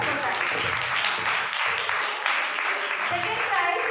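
An audience at a church singing-competition prize ceremony applauds a first-prize winner, giving steady, fairly loud clapping from many hands that runs throughout, with voices mixed in.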